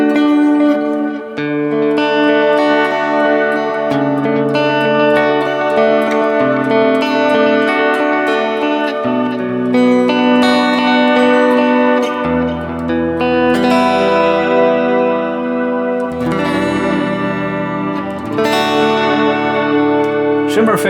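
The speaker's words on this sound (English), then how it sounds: "I'm using the electric guitar with a clean tone. With a shimmer effect." A Mooer GE300 electric guitar with a clean tone and a shimmer reverb effect plays sustained chords and melody, the notes ringing out in bright, octave-shimmering washes that blend into one another.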